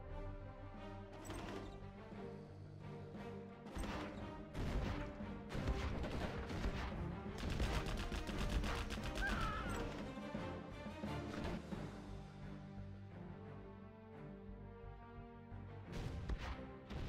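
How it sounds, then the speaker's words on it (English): Terrorist units detonating against a building in the real-time strategy game Generals Zero Hour, a dense run of heavy crashing explosions and impacts layered over one another, loud and continuous throughout. "Terrorists there going to be detonated on the building"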